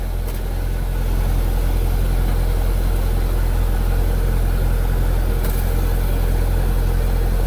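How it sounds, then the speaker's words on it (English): A 1998 Chevrolet Corvette with a 5.7L V8 and 4-speed automatic runs at a close, loud, steady idle while it is shifted through the gears, with no talking. "We're gonna cycle through the gears one last time"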